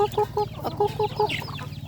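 A flock of about thirty hens clucks close by in a rural yard, short repeated clucks in a quick, uneven rhythm with no speech.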